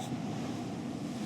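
Ocean surf rolls in as a steady, broad wash of waves mixed with wind rumble across the microphone, continuous and fairly loud with no voices.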